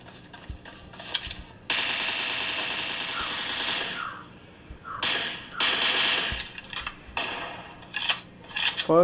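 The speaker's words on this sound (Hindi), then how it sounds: "समझ में आता है कि किस साइड से गोली चल गई" Rapid bursts of automatic gunfire from PUBG played on an iPhone SE 2020, crackling in short and long volleys with brief pauses between them.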